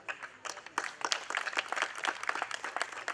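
An audience at a formal gathering of former student union office-bearers and mayors claps in a fairly faint, scattered patter of hands that thickens over a few seconds.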